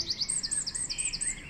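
Little birds chirp in quick, high repeated tweets, a steady cluster of bright calls close by with no talking.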